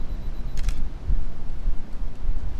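DSLR camera shutter firing once after a 2-second timer, a crisp double click close by over low outdoor wind rumble.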